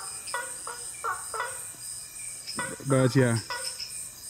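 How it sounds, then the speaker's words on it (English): Frogs calling in a rainforest at night: faint repeated croaks and a louder burst of rapid pulsing calls, over a steady high insect drone, with brief talk. "Ignore the weird sound, guys. There are frogs in the rainforest."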